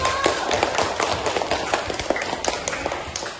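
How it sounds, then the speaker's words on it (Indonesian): A class of students claps their hands during a coding lesson, a quick burst of many scattered, fairly soft claps in a classroom. "Tepuk tangan dulu."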